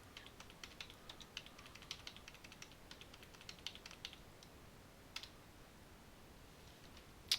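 Fingers type on a computer keyboard entering network configuration commands, a quiet, close stream of irregular key clicks with a few sharper presses and a final louder tap.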